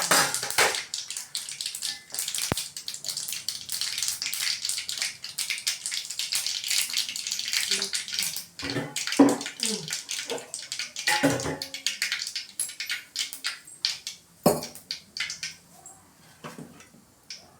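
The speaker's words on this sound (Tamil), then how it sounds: "கடுகு பொரிஞ்சிருச்சு." Mustard seeds crackle and pop in hot oil while Tamil home cooking begins for a colocasia fry, a dense sizzling spatter with scattered sharp pops that thins toward the end.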